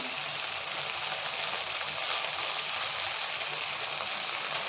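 Mint and coriander leaves sauté in a hot pan for hotel-style pudina chutney, giving a steady, even sizzle and crackle that stays close and fairly soft throughout, with no talk over it.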